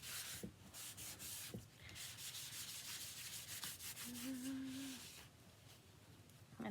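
A waxy towel rubs wax onto a surface in steady, close back-and-forth strokes, a soft continuous scrubbing with a few sharper taps; no talking.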